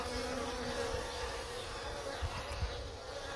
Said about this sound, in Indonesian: ini lebah, the real lebah.